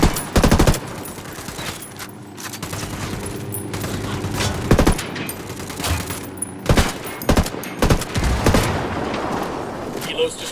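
Bursts of M4A1 rifle fire in the tactical shooter Ghost Recon Wildlands, rapid repeated shots in several loud volleys spread across the stretch, with a voice talking over the gameplay.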